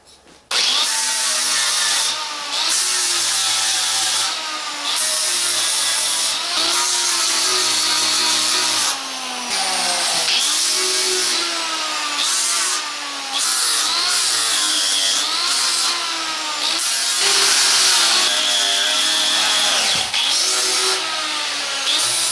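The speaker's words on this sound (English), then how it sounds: "I'm going to use a 36 grit on the grinder and just take the knots down" Angle grinder fitted with a 36 grit sanding disc smoothing knots off logs for a log trellis, a loud, steady high-pitched grinding whine running nearly continuously with brief dips as the disc bites into the wood.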